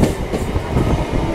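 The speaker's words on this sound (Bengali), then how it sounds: "এটা একটা ট্রেন যাচ্ছে, এটা তোমার হাওড়ায় যাচ্ছে।" An old ICF-rake local train bound for Howrah rolls past close by, a loud, steady rumble with rhythmic clatter of wheels over rail joints.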